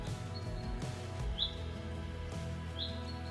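Birds chirp in a calm, still spring evening: two short, bright calls rise clearly above a steady low background hum, one near the middle and one near the end.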